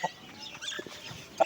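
Roosters clucking while fighting, a few short, sharp clucks and squawks heard close by in a brief burst, with a louder squawk near the end and quiet gaps in between.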